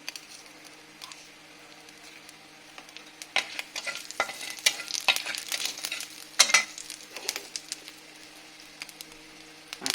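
Whole cumin seeds and five-spice tempering crackling in hot oil, a soft patter rising into denser bursts of sizzle and pops midway, then easing back to a quiet fry.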